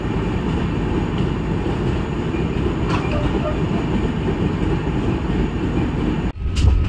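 A Garib Rath Express AC train on the Kolkata to Guwahati run, nearing Kamakhya, rumbles steadily from inside the coach with a constant low roar that dips abruptly just before the end.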